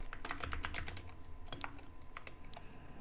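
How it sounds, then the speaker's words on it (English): Someone types on a computer keyboard while entering a Wi-Fi network name, giving a quiet burst of rapid clicky keystrokes that thins out into scattered taps. "we're typing in the Wi-Fi network that we want to crack"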